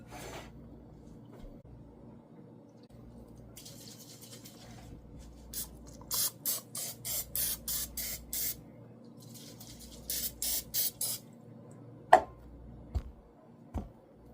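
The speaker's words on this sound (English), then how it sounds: "Now coat the bowl and the dough in oil before covering." Cooking oil sprayed onto a bowl and a ball of pretzel dough, two clusters of short hissing bursts in quick rhythm, close and fairly quiet, followed by a couple of light clicks.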